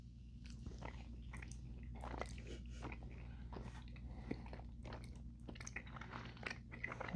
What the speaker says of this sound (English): I'm gonna eat the gummies first